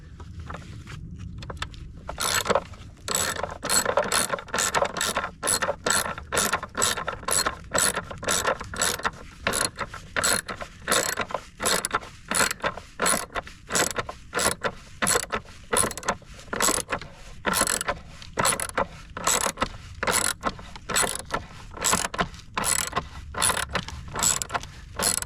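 Rapid ratchet clicking as a bolt is tightened on the battery hold-down of a 2015 Mercedes-Benz C300 during a roadside battery change, a long steady run of sharp, close, evenly spaced clicks with no talking.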